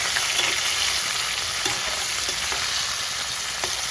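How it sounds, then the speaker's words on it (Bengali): Chopped onion frying in spiced oil for chicken kosha, a steady close crackling sizzle with a few light taps of a spoon on the pan, and no talking. "তো আমি এবার পেঁয়াজ কুচিটা দিয়ে দেবো।"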